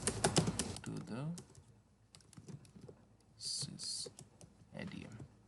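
Computer keyboard typing, a burst of keystrokes used to edit a file during an Nginx setup on Ubuntu 22.04, clicking in quick irregular clusters with a few pauses, close and moderately loud, with some voice in places.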